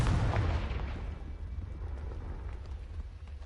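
A Confringo fire spell explodes in the Hogwarts Legacy video game, a heavy boom at the start that fades into a low rumbling tail, loud and close, with no talking.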